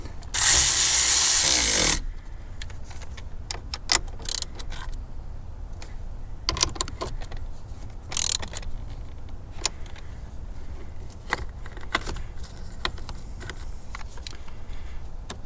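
Ratchet wrench clicking while tightening the battery terminal hold-downs on a 2015-or-later Ford F-150, heard as a dense burst of close ratcheting at the start, then scattered light clicks and taps.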